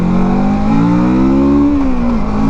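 A motorcycle accelerating hard to pass a car on an open road, close and loud, the engine note climbing steadily in pitch before dropping as the rider shifts.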